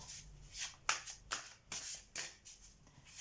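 Tarot cards are shuffled by hand in repeated quick riffling bursts, about six rustling strokes at a close, quiet level with no talking.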